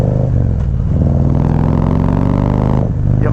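A Harley-Davidson CVO motorcycle being ridden on New York City streets, its engine rumbling loud and close with a deep, steady drone that surges as it revs, briefly dipping near the end.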